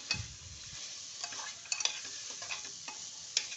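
Grated red pumpkin sautéed in ghee, a quiet close sizzle with repeated light scrapes and taps of a spoon against the pan, no voices.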